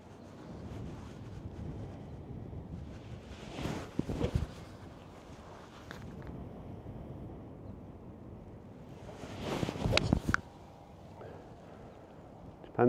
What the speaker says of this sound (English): Wow, that wind is strong.